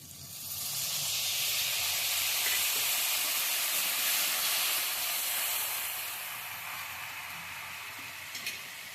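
Water poured into a hot pan for sago khichdi sets off a loud, close burst of sizzling steam that hisses for several seconds, then gradually settles to a softer sizzle, with no talking.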